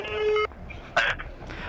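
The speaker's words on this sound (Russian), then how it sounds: "Чтобы наши сомнения оправдались, мы ему позвонили." A phone call being placed to a seller about a Lenovo handset, heard as a short burst of stacked dialing tones, then a brief electronic chirp, with no talk.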